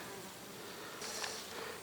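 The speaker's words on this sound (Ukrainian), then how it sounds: "бджола навіть рано вранці вентилює ляточок." Continuous soft buzzing hum of many honeybees fanning their wings at the hive entrance in the early morning, close by, steady with slight swells.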